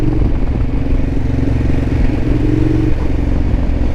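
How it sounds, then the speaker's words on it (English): A Ducati Diavel motorcycle running in urban mode while being ridden, with a loud, steady, throbbing engine drone close by and no voices. "It sounds pretty darn good when you're riding in urban mode. The motor is just such a nice sounding engine."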